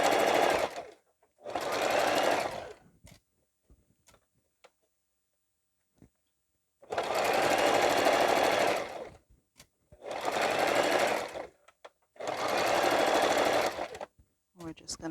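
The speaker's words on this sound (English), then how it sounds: "We're just going to sew this all the way around." A sewing machine stitching all the way around a reversible bucket hat, running in loud, close bursts of several seconds each separated by quiet pauses with faint handling clicks.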